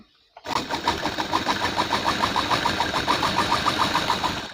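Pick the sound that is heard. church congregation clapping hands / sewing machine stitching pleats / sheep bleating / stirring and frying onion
sewing machine stitching pleats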